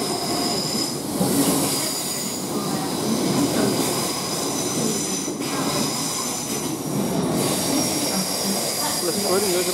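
Southern Class 377 electric multiple-unit train passing through Clapham Junction station, a steady loud rumble of wheels and rail noise with high squealing tones running throughout, close by and continuous.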